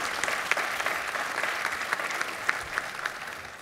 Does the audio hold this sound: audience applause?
yes